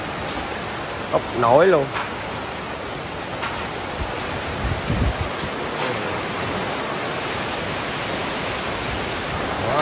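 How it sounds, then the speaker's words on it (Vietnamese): Heavy rain pours down in a steady, loud, broadband hiss, with a brief voice speaking over it and a few scattered knocks. "Mưa như làm suối đổ."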